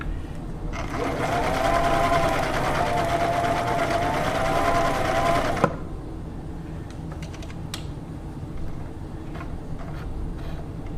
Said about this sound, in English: And that is the triple lock stretch stitch on the A cam.